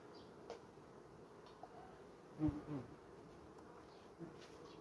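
Honey bees at a hive during September syrup feeding, a faint, low buzzing hum heard from close range, broken by a few soft knocks and clicks, with no talking.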